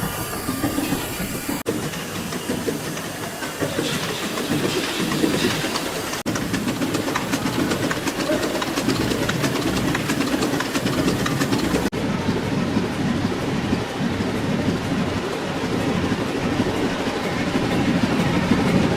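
Werkspoor TM356 engine from 1935 running at the Boezem-Gamal Gouda pumping station, a loud, steady, rhythmic mechanical chugging and rattling that carries on unbroken throughout without anyone speaking.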